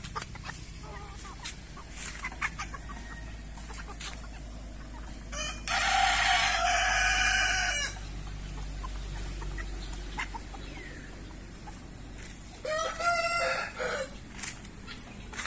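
A rooster crows loudly and close, twice with a pause between, while chickens on a farm cluck and chirp in short bursts around it, with no talking.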